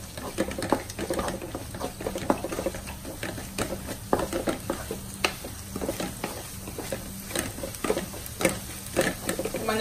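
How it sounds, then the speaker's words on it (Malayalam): Turmeric powder stirred in a pan over a low flame gives faint frying crackle and repeated soft scraping strokes of the spoon, heard close up with no talking. "ഒരു 10-30 സെക്കൻഡ് നന്നായിട്ടൊന്ന് ഇളക്കി കൊടുക്കണം ലോ ഫ്ലെയിമിലിട്ടിട്ട്"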